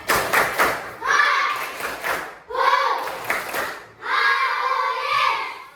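Children in a classroom do a rhythmic cheer clap, with sharp patterned bursts of hand claps and chanting voices in three loud phrases.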